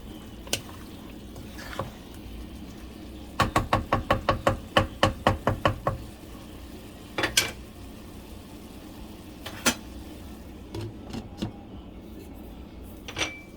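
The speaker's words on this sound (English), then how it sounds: "once we add in the sausage, just stir that around" Sausage for Cajun-style jambalaya being stirred in a pot: a quick run of about a dozen hard knocks from the spoon against the pot, then a few scattered taps over a faint background hiss, with no voices.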